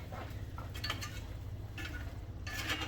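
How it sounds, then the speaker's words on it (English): A spoon stirs Creole seasoning and Texas 5 spice into a creamy shrimp sauce in a pan, giving faint metallic clinks and soft scrapes over a low background hum. "I'm going to stir that in"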